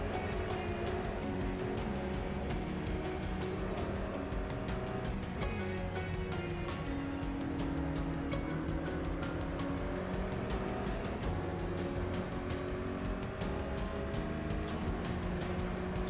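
GTE race cars roar continuously in a racing video game, with layered engine drones rising and falling as they run in a close pack.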